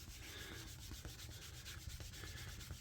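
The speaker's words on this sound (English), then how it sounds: "we put a light coat of tokonole onto the finished side of our leather, and then we take some cloth" Cloth rubbing briskly over the finished top side of leather coated with tokonole, a quiet, steady rhythmic swishing friction that repeats without pause.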